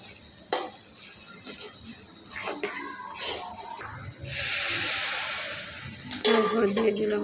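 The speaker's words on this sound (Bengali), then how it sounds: "তারপর চাল দিয়ে দিলাম, তার কিছুক্ষণ ভেজে নিলাম।" Rice for chicken biriyani fries in a pan with a soft continuous sizzle broken by scraping stirs, swelling into a louder hiss midway before the spoon clatters again.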